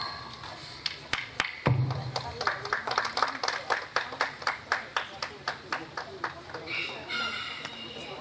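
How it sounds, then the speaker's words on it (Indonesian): Audience claps at a school museum event in Tanjung Pandan as the next junior high participant is called, a scattered, uneven patter of hands with sharp individual claps in a rhythmic run, following a brief announcer voice. "mari beri tepuk peserta selanjutnya dari SMP Negeri 5 Tanjung Pandan dengan nomor peserta 24"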